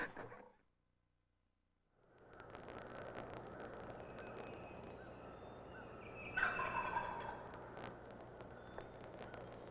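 Wild turkey gobbling from a thicket on a spring turkey hunt: a single rolling gobble, fairly distant, over quiet outdoor ambience after a brief silent gap.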